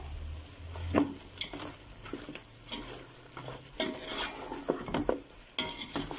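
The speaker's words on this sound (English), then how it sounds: "I'm going to be adding in my ground spices, my curry powder, my turmeric, and my jeera powder all at once. And I'm going to give it a stir." Ground curry powder, turmeric and jeera are stirred into chops frying in a pan: scraping spoon strokes and clinks over a steady sizzle, with no talking.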